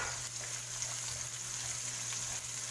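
Red onion sizzling in a hot pan with garlic, cooking for squid adobo, a steady close frying hiss with no talk.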